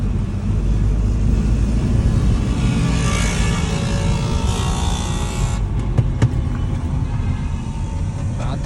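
Night road traffic rumbles in a steady, loud wash of engines and tyres, with a vehicle swelling past midway before the noise drops back to a dense background roar.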